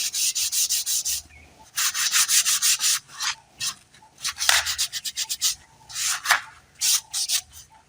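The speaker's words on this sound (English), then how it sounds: "You can use sandpaper direct like this." Sandpaper rubbed by hand over a window pane surface as preparation, a series of close, scratchy strokes in bursts with short pauses between, no talking.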